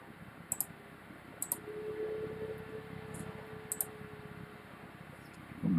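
Scattered sharp computer keyboard clicks come singly and in quick pairs at close range over a quiet room tone with a faint steady hum, and no one speaks.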